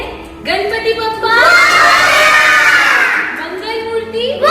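A crowd of schoolchildren at a Ganesh Chaturthi celebration loudly chants the Ganpati Bappa slogan in unison, a swelling, sustained group shout that fades and then rises again at the end.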